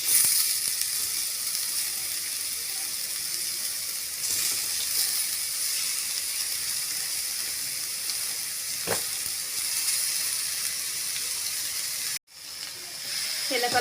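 Grated beetroot frying in a pan for a Tamil-style beetroot poriyal, a steady soft sizzle and hiss running throughout, broken by a brief clatter and a moment of near silence before the sizzling resumes.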